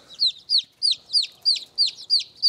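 Baby chickens peep in a quick, regular series of about eight high, clear chirps, close and loud with no talking.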